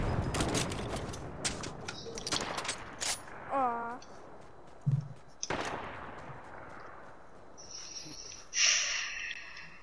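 Gunfire in the Fortnite video game: several sharp, loud shots ring out in a quick burst at the start, followed by scattered single shots with short pauses between them and a few softer game effects.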